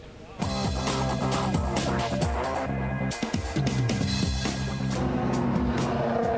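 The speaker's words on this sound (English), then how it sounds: "the cars just making their way round on the final formation lap for the second race of the day" BTCC touring race cars at Knockhill rumble round on a formation lap, a loud continuous blend of engine drone and shifting revs, with commentary voices talking over it.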